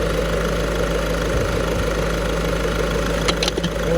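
A 2010 Volkswagen Touran with a 1.6 TDI diesel engine idles with a steady, even hum close by, broken by a few faint clicks near the end.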